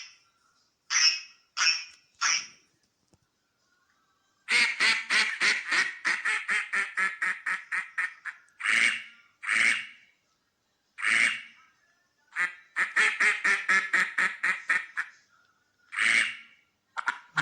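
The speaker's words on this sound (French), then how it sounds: "Maintenant, le son des canards." Ducks quack loudly and close by, in short single calls and long rapid runs of repeated quacks separated by silent gaps.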